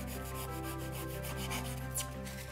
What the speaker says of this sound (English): You can see now that just by sanding it, it's rounding all the edges off.